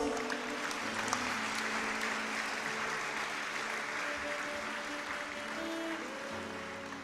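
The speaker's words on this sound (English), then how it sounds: "Let us give a loud round of applause" Applause from a large audience at a white coat ceremony fills the hall, a dense steady clapping that holds for several seconds and then thins slightly near the end.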